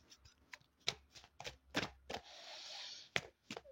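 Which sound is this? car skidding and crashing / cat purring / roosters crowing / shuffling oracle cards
shuffling oracle cards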